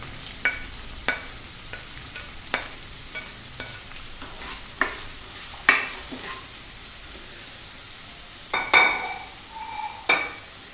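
Sliced onions sautéing in a pan with a soft steady sizzle, punctuated by regular scraping stirs of a spoon, close up with no talk.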